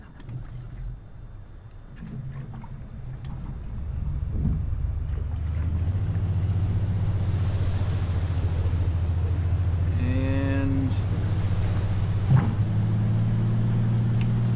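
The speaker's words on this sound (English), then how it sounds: "No, we need to start the engine." A De Havilland DHC-2 Beaver floatplane engine starts in a flight simulator game: a low rumble builds into a steady, loud droning roar, with a brief rising whine partway through.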